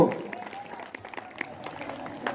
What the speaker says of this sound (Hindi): सभी के लिए दोबारा तालियां